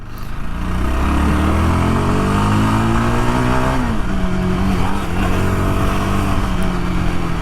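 A Yezdi Scrambler motorcycle engine revs loudly and steadily, its pitch rising and dipping through several throttle changes at close range, with no talk over it.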